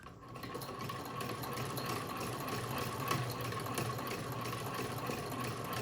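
An antique sewing machine runs at an even pace, its shuttle moving back and forth in a steady mechanical whir with light rattling, close and without speech.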